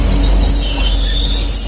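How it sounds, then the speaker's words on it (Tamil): A train arrives, its loud continuous rumble and high metallic squeal from the wheels filling the air, steady and close throughout. "ட்ரெயின் வேறு வந்துட்டுது."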